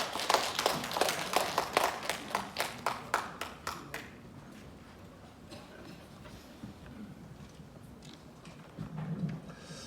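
Audience applause at a memorial ceremony for General Choi Un-san, a crowd clapping in a burst of sharp, regular claps that fade away after a few seconds into quiet room noise.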